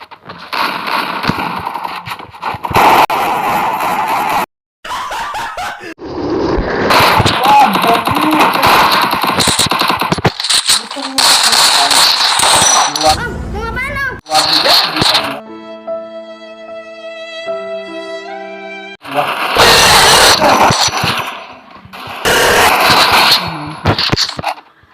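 Gunfire in the Free Fire video game comes as loud, repeated bursts of rapid shots and blasts, broken by brief pauses and a stretch of game tones.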